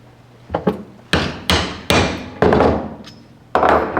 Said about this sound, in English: you need a ball peen hammer